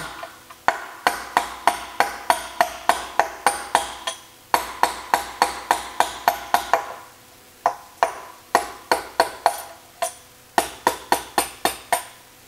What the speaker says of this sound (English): before I can undo the input shaft, shaft nut, I need to drive out the roll pin